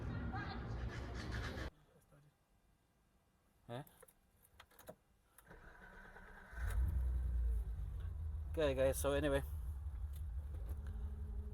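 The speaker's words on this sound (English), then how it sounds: "the startup is much better on the vehicle" A BMW E30 325i with a stroker engine cranks and catches around the middle, then settles into a steady, low, rumbling idle; keys jangle and someone talks over the start.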